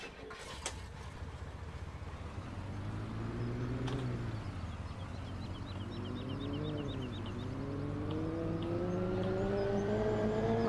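Truck driving in Farming Simulator 17 on the Goldcrest Valley map, with a steady engine drone that slowly climbs and dips in pitch as the vehicle accelerates and shifts, growing gradually louder, with no talking.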